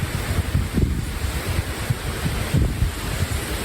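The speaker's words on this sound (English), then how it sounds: "Really windy up here." Strong wind buffets a nearby microphone high up in Algonquin's Barron Canyon in a steady, rumbling roar with gusty swells and no voices.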